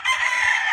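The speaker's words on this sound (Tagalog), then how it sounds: "May naririnig ba kayong manok guys? Ay, may manok pala." A rooster, kept for cockfighting, crows in a single short, loud, clear burst nearby, with no talk over it.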